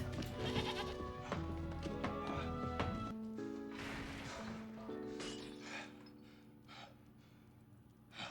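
Goats bleat repeatedly in wavering cries, several animals calling over one another at close range, with a busy, noisy background throughout.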